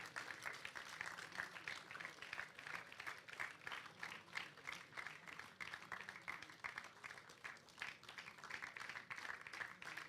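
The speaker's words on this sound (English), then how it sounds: "Ladies and gentlemen, please give a round of applause to Mr. Mahesh." An audience at an international documentary film festival awards ceremony applauds a winner. Sustained, even clapping from a crowd fills a large hall and sounds fairly distant and quiet.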